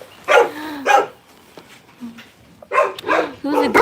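A dog, called good looking and kept at an animal sanctuary, gives several loud close barks and yelps in two bursts separated by a short gap.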